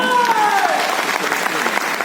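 Audience applause fills a hall at a business platform event, dense steady clapping from many hands with a tonal music sweep fading early, loud and continuous.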